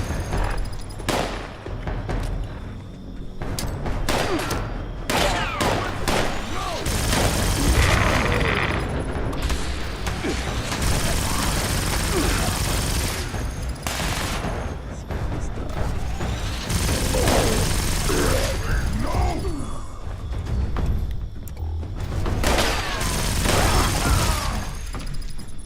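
Nuka grenades going off in Fallout 76, a dense run of booms and gunfire-like blasts over a steady game backdrop, loud and continuous throughout.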